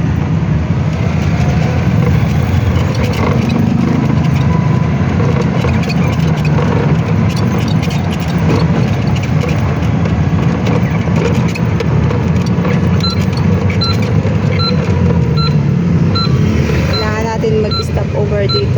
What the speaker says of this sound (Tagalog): Mag-stop over dito kasi may mga sasakyan na papasok.